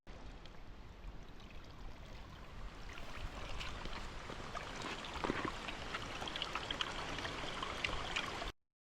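A river flowing through woodland in winter, a steady broadband rush of moving water with faint trickling detail, fairly close and constant, ending abruptly.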